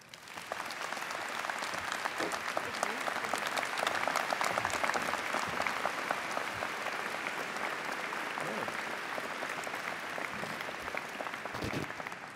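Sustained applause from a large audience at a 2010 law school convocation, welcoming Attorney General Eric Holder, with steady dense clapping that swells and holds at a constant level for the full length before tapering slightly at the end.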